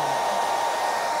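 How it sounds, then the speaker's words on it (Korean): Hair dryer blowing hot air, a close, loud and steady whirring hiss with no break from start to finish. "드라이기로 차가운 바람이 아니라 뜨거운 바람 있죠. 뜨거운 바람으로 열을 쐬주세요."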